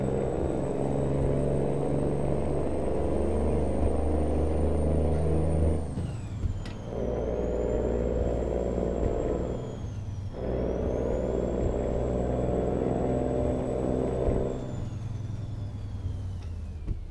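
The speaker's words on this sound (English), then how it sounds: "listen to the engine of the truck, listen to the rain in the game." A truck engine in the American Truck Simulator video game drones steadily with a constant high whine, then dips and picks up again twice as it shifts, over a low rumble and rain.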